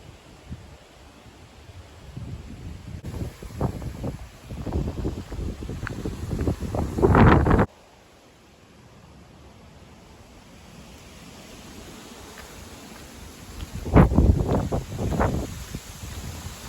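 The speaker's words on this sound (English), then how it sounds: "It's too windy." Strong gusty wind blows outdoors during a walk, buffeting the microphone in loud rushing bursts that build, drop away, then surge again, with no one talking.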